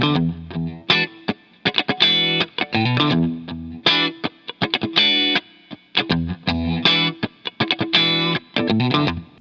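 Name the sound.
funk guitar muted rakes on triplets with chord stab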